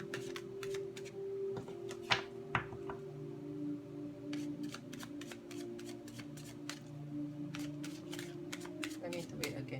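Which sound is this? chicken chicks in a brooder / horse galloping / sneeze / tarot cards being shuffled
tarot cards being shuffled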